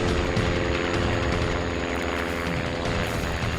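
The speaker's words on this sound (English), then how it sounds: "I hear that noise, and I listen to that noise because it's so foreign, and I start realizing it's an airplane." A spotter airplane flies over wilderness, its propeller engine giving a continuous, even droning hum that holds steady and fairly loud from start to finish.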